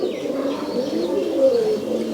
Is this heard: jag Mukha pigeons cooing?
yes